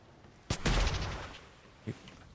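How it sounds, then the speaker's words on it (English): A green flare fired in a naval sailing video game: a sharp launch crack followed by a loud whooshing burst that fades, with a smaller pop near the end. "Fire another green flare."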